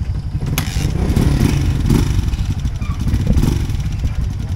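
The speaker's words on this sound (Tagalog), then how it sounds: "Anim na motor, anim na rider" Six motorcycles ride off together during a trip in Ifugao, Philippines, with loud rumbling engines and revving close by, plus some clatter and faint voices.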